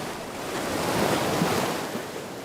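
Ocean surf washes ashore on a beach as a steady, soft wash of breaking waves, with wind noise across the microphone and no voices.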